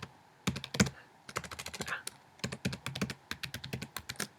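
Someone types on a computer keyboard in quick, uneven bursts of crisp key clicks, close and fairly quiet, with short pauses between runs of keystrokes.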